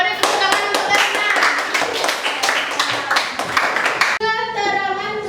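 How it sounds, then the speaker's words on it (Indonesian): Children in a classroom clap together in a loud, fast, continuous burst of applause that stops abruptly near the end, followed by a brief sung or chanted phrase. "beri tepuk tangan untuk Galina."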